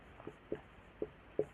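Writing on a board during a Class 12 physics lesson on electric charge: four soft, short taps and strokes at uneven intervals over a quiet, slightly hissy room.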